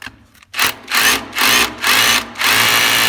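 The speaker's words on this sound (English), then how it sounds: "so drill in first, all the way." Power drill boring into a brick wall to treat damp, a loud close whine in four pulsing bursts of about half a second each with short gaps, following a brief quiet start.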